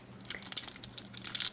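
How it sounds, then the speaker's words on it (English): A Japanese Pokemon booster pack's cellophane wrapper crinkles and tears in quick, close bursts of crisp rustling that grow busier toward the end, with no voices. "That crinkle that I heard that I thought was the pack finally splitting open was actually just the cellophane, that extra layer ripping."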